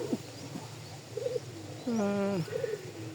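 A pigeon feeding its chick gives soft, close coos and a longer warbling call, with faint chirps from the young in a quiet setting.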